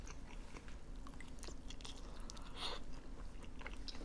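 Mala rosé tteokbokki is bitten and chewed with fish cake in a close, steady run of wet crunching and mouth sounds, one chew sharper near the end, with no talking.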